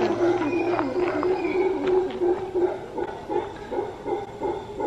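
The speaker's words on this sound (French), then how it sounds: "Ça, c'est des singes." Monkeys call in the wild in a Costa Rica national park, a run of throaty, rhythmic hoots and roars carrying steadily through the whole stretch at moderate distance, with no one speaking.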